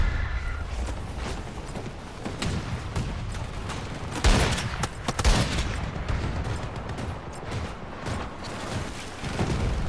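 Gunfire crackles through a video game shooter, dense bursts of rapid shots with a few heavier booms, loud and continuous against background game noise, no talking.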